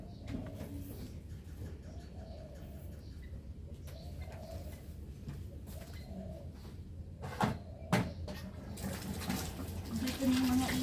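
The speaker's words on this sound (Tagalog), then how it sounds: "Dito na yung mga ibong Achay" Birds arriving to eat apples outdoors give repeated soft cooing calls, moderately close, with scattered rustling and knocking sounds, while a person talks quietly in the background.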